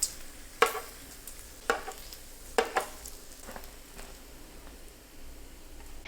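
Bacon frying on a hot griddle from Drew Barrymore's cookware line, a low steady sizzle with a few louder clatters and scrapes as the pieces are handled.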